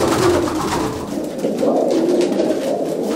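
Famous Kake-wale racing pigeons coo close by in a loud, continuous flock, the soft rolling throaty calls overlapping with a low wing-and-body rustle beneath.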